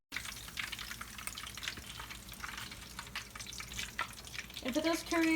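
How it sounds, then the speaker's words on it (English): Steady crackling sizzle of a pork chop frying in hot oil, close, with a voice briefly speaking near the end. "Sizzle, sizzle, sizzle."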